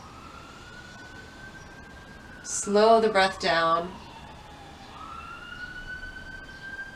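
An ambulance or police siren wails steadily along a street outside during a quiet yoga session, a rising and falling tone that persists throughout, while an instructor speaks softly over it.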